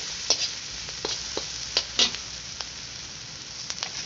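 Onion and garlic sautéing in a pan, a steady low sizzle broken by sharp scraping stirs and taps of a spatula, close and fairly quiet, with no talking.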